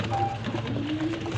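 Soft, low cooing of a golden highflyer pigeon, faint and close, over a light background hum.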